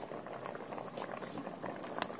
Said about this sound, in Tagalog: Kulong-kulo na ang ating nilagang karne